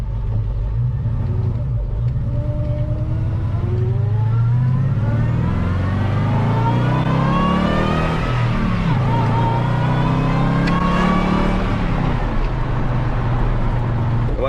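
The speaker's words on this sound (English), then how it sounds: "That makes all the supercharger sounds you'd expect." A loud hydrogen-powered supercharged truck engine revs up and down with a steady supercharger whine rising and falling in pitch over a deep continuous rumble.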